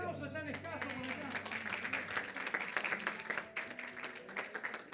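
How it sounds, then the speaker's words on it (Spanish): Thin, scattered applause at a church graduation ceremony, with a few pairs of hands clapping unevenly under a speaker's voice and background music, fairly faint and sparse. "Los aplausos están escasos por acá."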